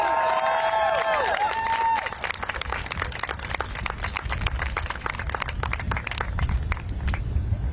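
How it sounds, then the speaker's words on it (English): A crowd of college students at a Howard University campus walkout breaks into sustained clapping and cheering outdoors, a dense wash of hand claps following a few seconds of whistles and shouts. "Another round of applause for that speaker, everybody."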